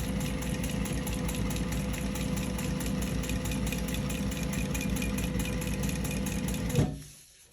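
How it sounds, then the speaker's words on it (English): Sewing machine quilting on vinyl runs in a steady, continuous, close rhythmic stitching drone, then stops abruptly near the end. "Let's stitch this little corner."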